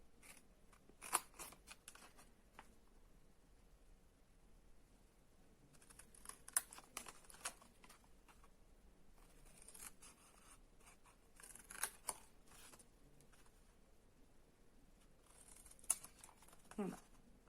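Scissors cut out squares on four sides of a craft piece, giving quiet, sporadic snips and crisp cutting clicks spaced a few seconds apart, close by against near silence.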